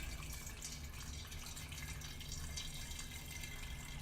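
Apple juice poured into a glass carboy while making mead, a steady trickling, splashing flow of liquid heard close and continuous with no voices.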